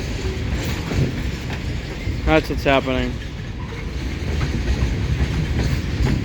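Wheeling & Lake Erie train cars roll over jointed rail outdoors, a steady low rumble with faint rhythmic clatter throughout, while someone talks briefly partway through.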